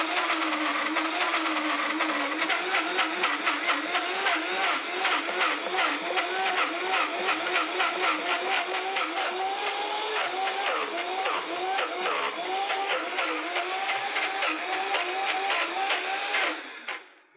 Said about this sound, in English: So what I've got a few cups of macadamia nuts here, just into my Vitamix